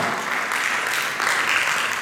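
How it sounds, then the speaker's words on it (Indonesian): Church congregation at a Sunday service in Indonesia claps together, a steady moderate wash of applause with a slight rise partway through. "Boleh tepuk tangan buat Tuhan kita."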